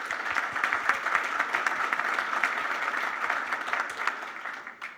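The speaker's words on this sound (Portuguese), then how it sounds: "uma salva de palmas" Audience applause at a conference session rolls on steadily and evenly for several seconds, then thins out and fades near the end.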